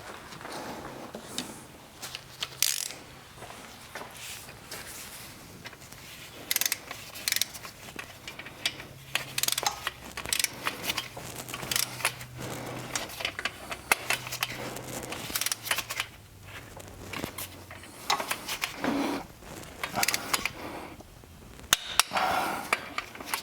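Ratcheting and tightening rod bearing bolts on a BMW E60 M5 S85 engine, close metallic clicks and taps recurring steadily throughout, with no talking.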